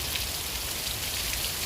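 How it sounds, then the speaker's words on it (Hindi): Heavy rain pours down steadily during a storm over farm fields, a dense, even hiss with no pauses and no voices. "और बहुत ज़्यादा तेज़ बारिश हो रही है गाइस।"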